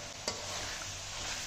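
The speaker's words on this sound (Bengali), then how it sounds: "টক দই দিয়ে একটু এবার কষিয়ে নিচ্ছি" Meat being sautéed with sour yogurt in a pan, a continuous close sizzle with a stirring scrape and one sharp clack of the utensil near the start.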